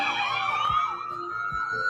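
A Cleveland EMS ambulance siren wails with a steady rising and falling electronic tone, clear and fairly loud, joined by low passing traffic thumps underneath.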